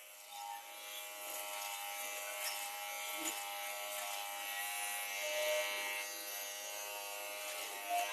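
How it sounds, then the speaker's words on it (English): Professional electric hair clippers buzz steadily while cutting hair, a faint continuous hum at close range with a small snip-like tick midway and no talking. "I'm using the clippers to show you how well they cut."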